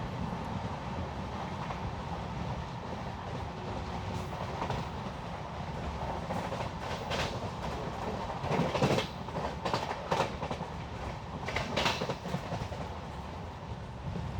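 Matsyagandha Express LHB passenger train on its inaugural Mangalore-to-Mumbai run: a steady rolling rumble with rhythmic clickety-clack from the wheels, and louder rattling bursts over the joints, heard throughout at moderate volume.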